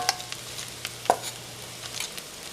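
Quiet stirring of bread and oregano in oil in a pot, soft scrapes and a couple of sharp clinks of a utensil against the pot over a low background hum.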